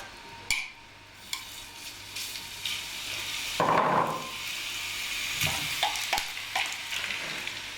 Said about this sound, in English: In a pan, heat a little olive oil and fry the chicken pieces and mushrooms over medium heat